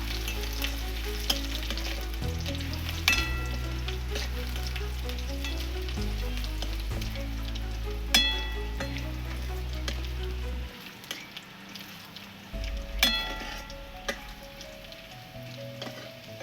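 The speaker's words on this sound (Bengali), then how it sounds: "এবার এর মধ্যে কচুটা দিয়ে একটু নেড়ে নিচ্ছি" Pieces of taro sputter and sizzle in an oiled pan seasoned with garlic and black cumin, stirred with repeated sharp scrapes and knocks; the frying hiss stays steady, drops away near the end, then returns faintly.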